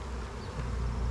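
Honeybees moved from a swarm box into their new permanent hive hum in a dense, steady buzz close by, many wings droning together without pause and swelling slightly louder toward the end.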